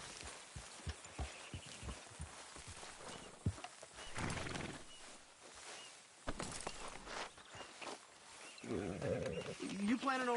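A horse in the video game Red Dead Redemption 2, with hoof clops, snorting and whinnies over game ambience, mixed with character dialogue.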